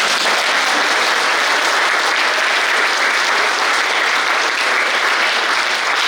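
College students in an audience clap loudly and continuously, a dense, even roar of applause from a large crowd that holds steady from start to finish.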